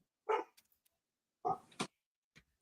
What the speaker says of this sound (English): there's a cat in the yard, the dog's barking.